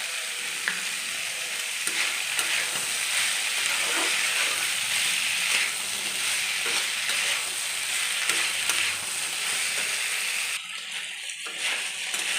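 Banana stem curry with boiled potatoes and salt sizzles steadily in a pan, a loud continuous frying hiss broken by scraping stirs, ending with a brief quieter moment.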